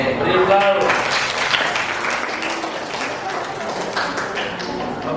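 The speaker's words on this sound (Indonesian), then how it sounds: "Oke, beri aplaus." Students in a Grade 8 English classroom break into a burst of clapping, loud at first and then settling into steady rapid applause, with voices mixed in.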